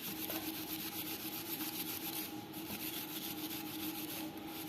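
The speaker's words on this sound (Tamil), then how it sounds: "மண் அழுக்கெலாம் நிறையா இருக்கும், அதனால் நம்ம இந்த மாதிரி ஸ்க்ரப்பில் தேய்ச்சி எடுத்துக்கலாம்." A crab being scrubbed clean of mud with a scrubber, a close, continuous rhythmic rasping rub of quick back-and-forth strokes heard alone without talk.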